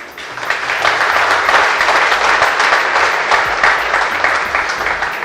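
Loud, dense applause from a college audience at a talk in Raipur, sustained clapping that rises quickly and holds steady for several seconds before easing slightly.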